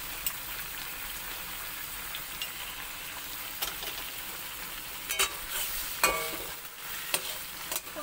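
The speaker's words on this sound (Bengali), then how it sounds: "পোস্ত বাটাটা বেশিক্ষণ ভাজতে নেই" Poppy seed paste frying in a pan, a steady hiss with faint sizzle throughout and a few scraping stirs and clinks near the end, close and moderately loud, no voices.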